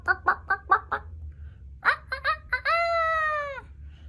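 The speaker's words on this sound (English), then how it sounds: "the chickens cluck and the roosters crow" A chicken clucks in short bursts, then a few sharp calls lead into a long, drawn-out rooster crow, near and clear over a low hum.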